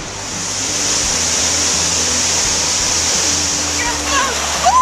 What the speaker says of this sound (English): One more waterfall.